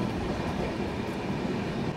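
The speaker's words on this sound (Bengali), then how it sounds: "এই যে ট্রেন কার্ভ হতে শুরু করলো" Kamakhya Puri Express 15644 rolls through the rainy Dooars as it begins to curve, giving a steady, loud, close rumble of wheels and carriages with no pauses.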